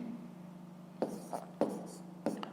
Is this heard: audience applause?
no